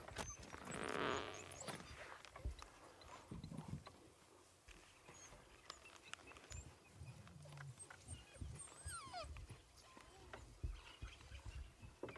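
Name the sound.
African wild dogs whining like domestic dogs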